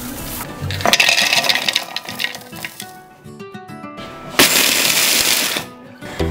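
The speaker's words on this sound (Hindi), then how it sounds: "अब हम इनको पीस लेंगे मिक्सी में" A mixer grinder whirs loudly in two bursts with a pause between, dried thandai spices rattling inside the jar as it grinds them coarse.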